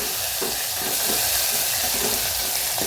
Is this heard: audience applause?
no